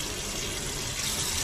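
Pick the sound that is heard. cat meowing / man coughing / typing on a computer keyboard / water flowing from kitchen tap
water flowing from kitchen tap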